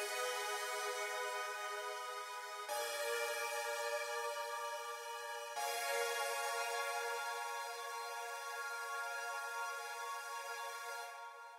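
Sustained synth pad chords from the Jump Off Contact expansion for a smooth hip hop beat, three held chords changing at steady intervals, soft and alone with no drums.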